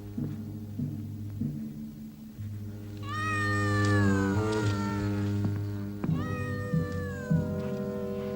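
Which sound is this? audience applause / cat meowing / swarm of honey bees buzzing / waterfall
cat meowing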